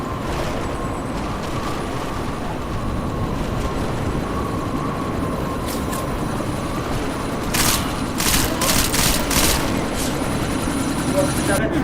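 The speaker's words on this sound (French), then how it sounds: "vous devez à tout prix arrêter cet hélico" A helicopter in the Deus Ex video game, a steady droning rotor and engine noise that holds throughout. Scattered sharp bursts sound like gunfire toward the end, and a voice talks over it.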